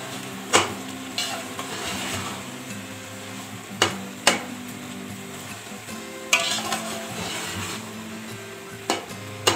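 Carrot halwa with milk and sugar cooks in a pan, with continuous low sizzling and bubbling broken by sharp spoon scrapes and clinks against the pan at irregular intervals, with no voices.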